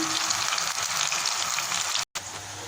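Chopped half onion frying in oil gives off a close, steady, bubbling sizzle with light crackle throughout, cut by a sudden moment of silence near the end before the frying resumes.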